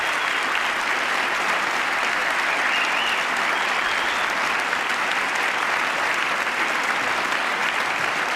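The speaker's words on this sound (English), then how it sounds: "Some applause." Audience applause fills the room in a dense, steady wash of clapping that holds evenly throughout, moderately loud with no speech over it.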